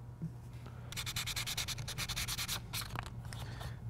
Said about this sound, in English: I'll just sand it nice and flat before we install it.